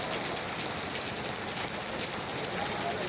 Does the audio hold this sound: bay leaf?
no